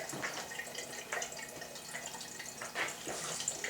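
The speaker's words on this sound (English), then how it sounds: "And that's probably enough water drained out of there." Water drains from a household water heater opened up to replace its anode rod: a steady, close trickle with scattered drips and splashes throughout, no voices.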